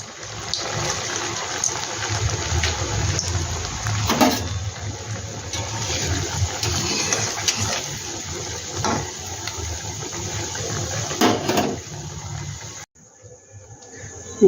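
Potato fingers fry slowly in hot oil, giving a steady, dense sizzle that runs close and unbroken for most of the stretch, then cuts out sharply near the end, leaving only a faint hiss.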